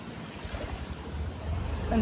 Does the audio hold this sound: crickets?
no